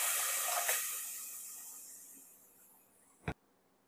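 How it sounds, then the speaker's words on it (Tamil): Water pours with a hissing rush into a cooking pot of green gram for Tamil pachai payaru kulambu, gradually fading, then a single sharp clink of metal at the end. "இப்போ நம்ம வந்து இதில் தண்ணி ஊற்றி வேக வைக்க போகிறோம்."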